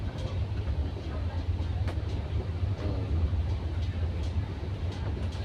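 Maitree Express, a Kolkata to Dhaka train, rumbling along at speed as heard from inside a first AC coupe cabin, with a deep steady roar and faint rhythmic clacks throughout.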